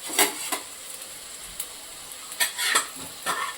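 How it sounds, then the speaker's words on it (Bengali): Cauliflower fritters frying in oil in a wok, a steady faint sizzle broken by a few sharp stirring and scraping bursts, close by with no talk. "করছি, ভাজছি কপিটা"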